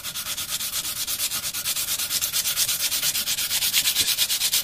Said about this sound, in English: I'm just going to wear it away nice and slowly by hand